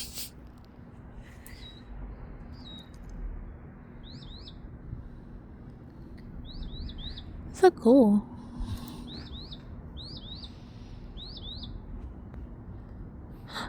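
A small bird sings outdoors in repeated short high chirping phrases, faint and a little distant, with a person briefly speaking close by partway through.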